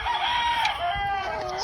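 A young Canawine cross stag rooster crows once, a drawn-out, slightly rough call lasting the whole moment, close and clear over faint background noise.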